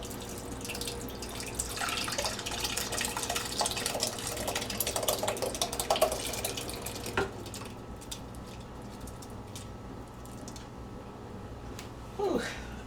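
A thick rice pudding mixture poured into a greased pot makes a quiet, continuous liquid pouring and splashing sound for about seven seconds, then stops, leaving faint clinks and a soft voice near the end.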